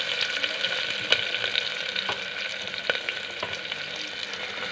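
Chopped tomatoes and green chillies hit a hot pan with garlic for a spinach and tomato curry, giving a steady, close sizzle with a few sharp stirring clicks and no talking.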